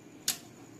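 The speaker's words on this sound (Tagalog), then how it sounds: "Nag-click kaya relay nito?" A single sharp relay click inside a Peavey powered audio mixer, brief and fairly close, over a steady background hum from a blower.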